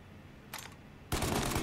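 Shotgun fire in the video game Mafia Definitive Edition comes as a short loud burst, then a heavier blast that rings on, close and punchy, with no talk over it.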